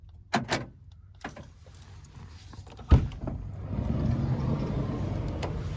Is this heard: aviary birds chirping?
no